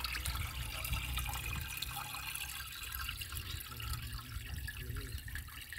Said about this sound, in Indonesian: kita tuangkan dulu yang sudah larut ya kita tuangkan dulu yang larutnya